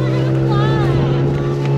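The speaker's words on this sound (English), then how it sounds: "I'm practicing on our new outboard while Ryan's here, so I get used to it before he leaves." New 18 horsepower outboard motor running steadily on a small boat, a loud close drone with a constant pitch and water and wind noise around it.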